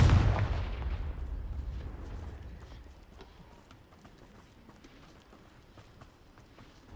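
A Confringo fire spell from Hogwarts Legacy bursts in a heavy explosive boom that rolls away into a long rumbling tail, followed by scattered light clatter and thuds.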